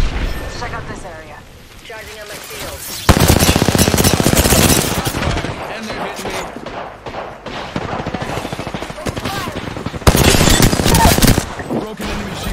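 Sustained automatic gunfire striking the player in the Apex Legends battle royale, loud and dense, coming in long bursts with pauses and heavy impacts.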